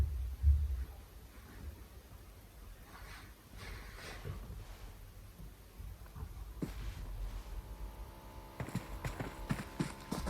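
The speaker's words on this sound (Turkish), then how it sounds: "Aha, ayak sesi." Footsteps of a player character in the mobile shooter PUBG Mobile, a run of rhythmic thudding steps that quicken and grow louder toward the end, with no talking over them.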